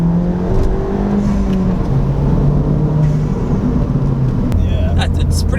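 Low droning exhaust of a Ford Fiesta ST with its sound symposer deleted, a steady engine hum heard from inside the car while cruising, with the pitch stepping slightly as it shifts through the gears.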